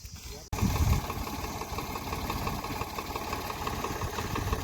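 A tractor engine runs steadily close by, with a rough, regular diesel chug, while harvested maize is loaded into its trolley at a farm threshing yard.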